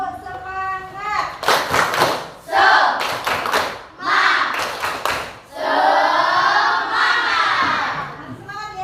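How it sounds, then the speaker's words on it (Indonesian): A primary-school class does a rhythmic 'tepuk semangat' clapping chant, with bursts of patterned claps mixed with children's chanting voices, close and lively, in short rhythmic phrases. "Ayo, tepuk semangat."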